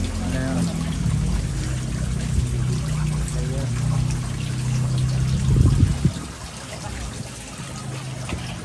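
Groundwater trickles and pours steadily into a dug excavation hole about three meters deep at an apartment construction site, with a low continuous flow and a voice talking over it.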